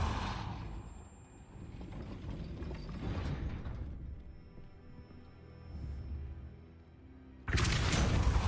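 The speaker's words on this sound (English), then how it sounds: "That looks as if it might raise the gate." Gate mechanism raising in the Hogwarts Legacy video game, a faint ratcheting, creaking run of gears and chains with a rumbling low hum, ending in a sudden louder burst of noise.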